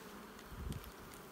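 Brief, faint hum of honeybees buzzing steadily at close range on a brood frame of old honey, a soft swell in the middle.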